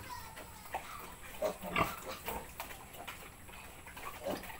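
Piglets on a farm grunt and squeal close by in short, repeated bursts, with steady background noise underneath.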